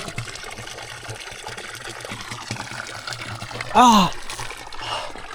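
Fresh water trickles steadily at a roadside stop along a bikepacking hiking trail, a continuous soft running sound, while a man briefly exclaims partway through.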